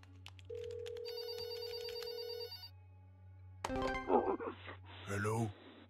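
Phone ringing in the video game There Is No Game: Wrong Dimension, a steady electronic ring tone held for a couple of seconds, then cut off and followed by a quick burst of game sounds and a voice.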